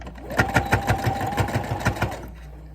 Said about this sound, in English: we're just gonna stitch this